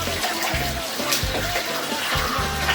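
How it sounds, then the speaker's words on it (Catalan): Fresh spring water from inside the mountain near Navarcles pours from a fountain in a steady, close splashing gush with a pulsing low-pitched flow. "Aquesta aigua de les entranyes de la muntanya que tenim aquí sobre."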